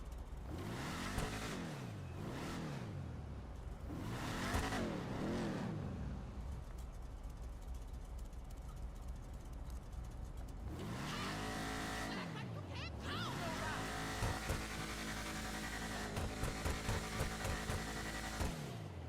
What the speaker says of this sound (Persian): صدای ماشینم گوش کنیم.